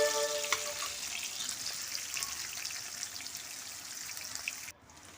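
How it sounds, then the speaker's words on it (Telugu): Onions fry in hot oil in a pan for dhaba-style tomato curry, a dense close sizzle with soft crackles that fades slightly before cutting off near the end. "ఆనియన్స్ వేసాను. అవి కొంచెం బాగా బ్రౌన్ కలర్లోకి వచ్చే వరకు వేపాలండి."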